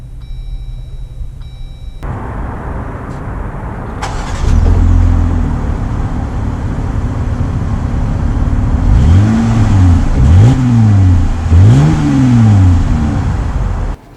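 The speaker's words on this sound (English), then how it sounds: "So we are setting off here in the 2020 Gladiator" A 2020 Jeep Gladiator Rubicon pulls away with a low idle swelling into a steady engine drone, then revs climb and fall in several rising sweeps as it accelerates through gears, loud and close from inside the cab.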